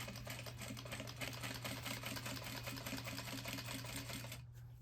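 A sewing machine runs steadily, stitching a fabric water bottle sleeve at a long stitch length with a fast, even mechanical chatter close by, then stops near the end over a low hum.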